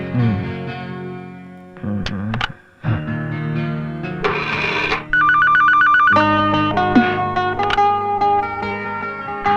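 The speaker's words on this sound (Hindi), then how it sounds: "वो फोन आस्था को लग गया यार" A phone ringtone plays loudly and continuously, an electronic melodic ring with repeating tones and no voices.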